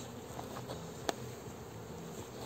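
Honeybees at a hive being opened with smoke make a soft continuous buzzing hum, faint and steady, with one sharp click partway through.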